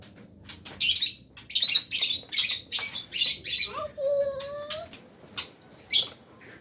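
A white-rumped shama sings in a run of bright, repeated chirps and whistles, moderately close, followed by a rising whistled phrase and a final chirp, with a quiet hum underneath.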